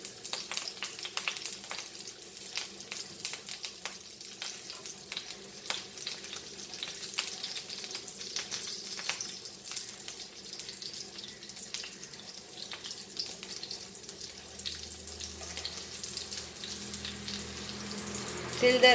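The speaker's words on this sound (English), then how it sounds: "So fry this on a slow fire." Goan sausages with rava frying over a slow fire, a long, gentle crackling sizzle with scattered pops, fairly soft and continuous throughout.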